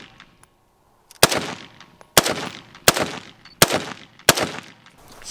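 Five sharp, loud gunshots crack out at an outdoor shooting range, spaced roughly evenly less than a second apart, each with a short decaying echo after a quiet start.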